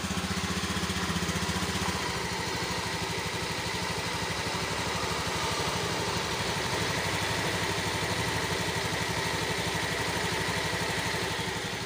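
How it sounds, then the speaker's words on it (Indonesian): A used motorcycle with a freshly rebuilt engine idles steadily after being started with the electric starter button, giving a smooth, even, continuous putter up close with no talking. "kunci kontak on, kita nyalakan tombol starter ya, coba didengarkan"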